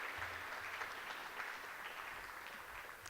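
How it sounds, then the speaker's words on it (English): A conference audience gives a round of applause for event sponsors, the clapping continuous but faint and distant, with no voices over it. "if I could just get from you all a round of applause, not just for our gold sponsors, but for all of our sponsors"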